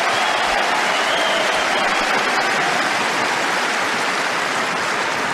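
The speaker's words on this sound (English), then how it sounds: "The crowd love it." A large tennis crowd at the Australian Open applauds a hard-fought point between Novak Djokovic and Alex de Minaur, a dense, continuous roar of clapping that stays loud and even throughout.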